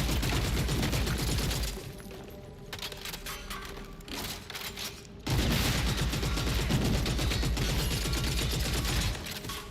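Dense bursts of gunfire from the video game Gears of War: E Day, with rapid automatic fire and sharp cracks that dip briefly and then surge back loud and close.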